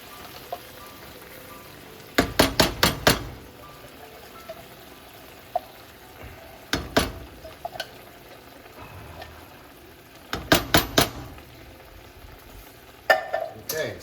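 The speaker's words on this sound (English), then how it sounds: "It requires scraping to get the last of the cream out of it." A spoon scrapes the last coconut cream out of a metal can in a home kitchen, coming in bursts of sharp rapid scrapes and knocks separated by quieter pauses, close and fairly loud.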